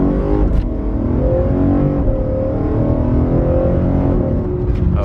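A BMW E92 M3 with a carbon fiber plenum revs up through a short pull with the exhaust closed and the windows up. A loud, continuous engine note climbs and falls over about five seconds, with no talking.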